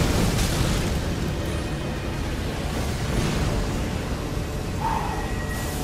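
A fire explosion in Elden Ring roars as a loud, sustained blast of dense rumbling noise, a continuous fiery burst with a brief higher flare near the end.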